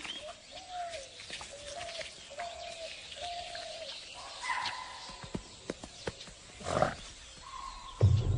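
An animal alarm call rings out in the wild, where grazing herbivores are feeding as a Bengal tiger approaches. Several repeated sharp calls sound at mid distance, mixed with bird chirps and other wildlife noises, and no one speaks.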